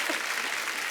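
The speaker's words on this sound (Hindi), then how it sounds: "इसमें भी तालियां." A brief burst of steady, dense clapping comes from a live audience at an event with actors Yami Gautam and Atul Kulkarni, with no voices standing out.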